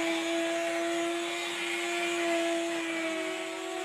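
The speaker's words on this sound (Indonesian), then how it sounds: "Lalu kita mixer hingga adonan putih kental dan berjejak." Electric mixer beating sugar and eggs into a thick white cake batter, a steady, loud motor whine holding constant tone throughout with no talk.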